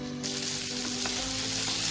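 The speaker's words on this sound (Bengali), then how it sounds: "প্যানটাকে ঢেকে ঢেকে এবার আলুটাকে ভেজে নেব।" Potatoes sizzle steadily in a covered pan over a medium flame, a close, even frying hiss with no voices.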